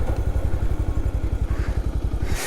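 A motorbike on a hill road pulling away, close and loud, with a rapid even engine thump that throbs steadily before tailing off at the end.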